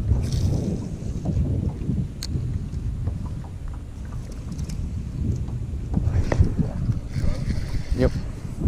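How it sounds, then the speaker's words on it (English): Wind buffets a fishing boat out on the water, a steady rumbling roar against the microphone with gusts that swell and fade, plus a few faint knocks and muffled voices. "I love wind."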